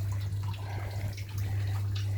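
Water pumped out of an aquaponics tank holding a few small fish, a steady close watery rush and trickle over a constant low pump hum, no voices.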